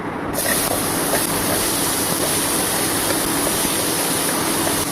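Watermelon rind hits hot oil for frying, setting off a sudden, loud, dense hiss that starts abruptly and holds steady, close up, with no one talking.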